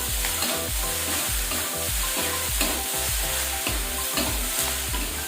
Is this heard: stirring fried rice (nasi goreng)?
yes